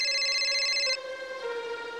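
A mobile phone ringtone plays: a loud, close electronic melody that rings for about a second, then drops to a softer repeating tone, with no voices over it.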